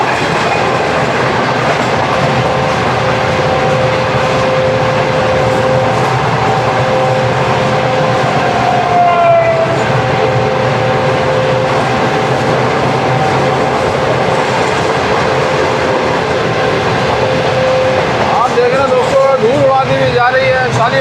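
Shalimar Express passenger train running at speed after leaving Multan, heard from inside an air-conditioned coach as a steady loud rumble with rhythmic clickety-clack of wheels on rails and occasional brief squeals.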